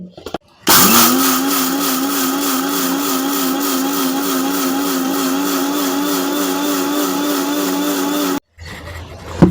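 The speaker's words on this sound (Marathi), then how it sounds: "थोडे करून आपण मिक्सरला बारीक करून घेऊया आणि याची पावडर बनवून घेऊया." A mixer grinder whirs loudly and steadily for several seconds grinding coriander seeds into powder, starting abruptly and cutting off sharply, with a faint rattle of seeds inside.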